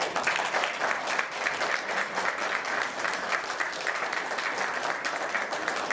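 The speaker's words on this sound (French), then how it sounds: "on peut les applaudir" An audience at a commemoration event gives sustained applause, many hands clapping in a steady, fairly distant wash that stays even throughout without cheering.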